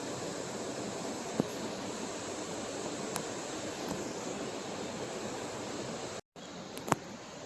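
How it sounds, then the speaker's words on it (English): Rushing water of the lower falls at a crown land campsite, a steady broadband roar from a distance, with a couple of faint knocks and a brief dropout. "You can just barely see the rushing water up top there."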